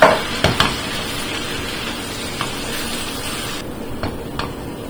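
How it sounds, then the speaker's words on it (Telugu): Paste of onion, coriander, chilli and garlic frying in a pan for raw banana and raw mango pulusu, a steady close sizzle with a few stirring scrapes and taps. "ఇది కొంచెం వేగనిద్దామండి."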